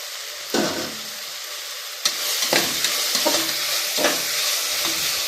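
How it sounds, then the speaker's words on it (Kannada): Tomato bath masala with greens fries in a pan, a steady sizzle broken by several sharp scraping stirs, close and fairly loud, with no one speaking. "ಅದನ್ನು ಹಾಕಿ ಚೆನ್ನಾಗಿ ಫ್ರೈ ಮಾಡ್ತೀವಿ"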